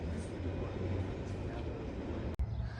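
A nearly three-mile-long CSX freight train rumbles steadily over railroad diamonds, a loud, continuous low roar with no break in the pounding and one brief sharp dropout near the end.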